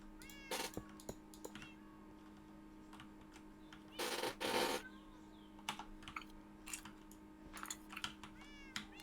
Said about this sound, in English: Oh, the kitty cats.